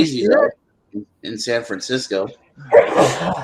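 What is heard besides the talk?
sneeze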